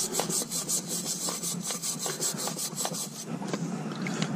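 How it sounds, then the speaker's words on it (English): A wire brush scrubbing rust off an old Ford wrench, rapid rhythmic rasping strokes close up, steady and loud for a few seconds. "This wrench was completely rusty, as you can see now, and I am going to brush that."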